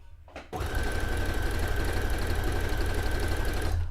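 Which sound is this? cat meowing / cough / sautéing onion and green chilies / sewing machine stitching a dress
sewing machine stitching a dress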